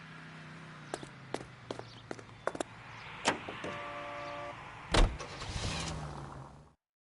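A car in the video game LA Noire starts off with a few door and footstep clicks, then an engine rises and hums as it drives away, fairly close and moderately loud.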